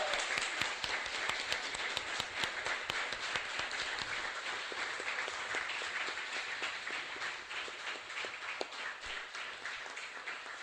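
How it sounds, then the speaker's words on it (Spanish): Attendees at an extraordinary council session clap together in a sustained round of applause, sharp individual claps standing out early before settling into an even, moderately distant patter that carries on for several seconds. "Un gran aplauso."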